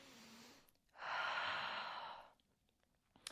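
A deep, steady exhale during a Pilates breathing exercise, the breath pushed out forcefully while the belly is drawn in, lasting about a second and a half, close and alone in a quiet room.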